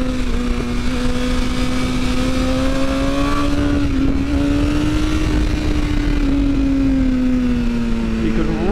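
A 2022 BMW S1000R motorcycle engine drones steadily while riding, a loud, close, sustained tone that rises slightly and holds, with wind roar throughout.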